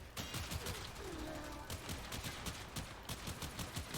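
The Akjagara Prime pistol fires in the video game Warframe as a dense, rapid run of gunshots at steady pace, loud and close, with a faint voice briefly beneath it.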